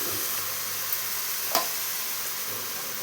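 Curry sizzles steadily in a pan while being stirred, a continuous frying hiss with a couple of soft scrape accents, close and fairly quiet.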